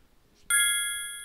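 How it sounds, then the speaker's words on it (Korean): A phone alert sounds on a golf course, a single clear bright ding that rings on and slowly fades in a quiet setting. "누가 전화 왔나 봐."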